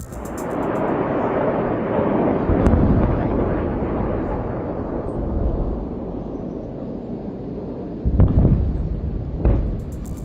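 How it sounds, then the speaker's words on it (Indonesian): Hezbollah rocket explosions booming over Haifa, Israel, a heavy continuous rumble with sharper deep blasts, including a loud thud near the end, captured with wind-buffeted roar and no talk. "Dentuman roket Hizbullah yang jatuh ini terdengar mengguncang kota Haifa"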